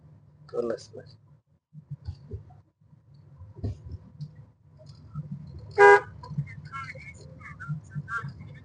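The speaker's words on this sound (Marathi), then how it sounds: "डोंबिवलीची गाडी आली परत" A car from Dombivli pulls up at a busy flower and puja-goods market, with low road rumble, scattered clicks and one short, loud horn toot midway, while people talk nearby.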